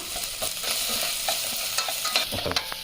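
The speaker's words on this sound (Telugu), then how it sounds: "ఇది ఫ్రై చేసుకోవాలండి." Ingredients sizzle steadily as they fry in a home kitchen pan, with frequent scraping and stirring strokes of a spoon against the metal, close and fairly loud with no voices.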